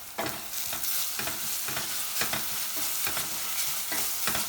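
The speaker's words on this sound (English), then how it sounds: "Let it fry in the oil." Tomato paste frying in hot oil with onion and garlic for a pizza sauce, a steady sizzle broken by regular scraping stirs of a spoon in the pan, close and continuous with no voices.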